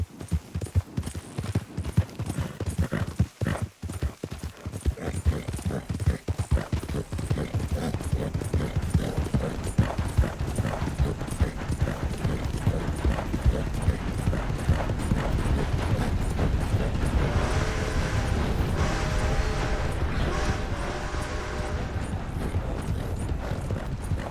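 Horse hoofbeats in Red Dead Redemption 2, a steady clip-clop of a ridden horse running on for the whole stretch, loud and close, with creaking tack and mechanical clatter mixed in.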